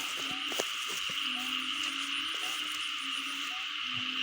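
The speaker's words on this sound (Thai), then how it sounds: "เสียงกบเสียงเขียด" Frogs croak from a flooded rice paddy in steady rain, short chirping calls repeating every second or so over a constant hiss of rainfall.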